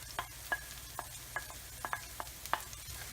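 Onions and garlic sauté quietly in a pan, a soft low sizzle broken by a series of sharp, irregular scrapes and taps of a spoon stirring, nearby and fairly faint.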